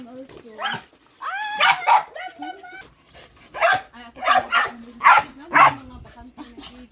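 Dogs at an animal rescue shelter in Cebu, Philippines, barking and yipping in repeated sharp bursts, close and fairly loud, with some whimpering between barks.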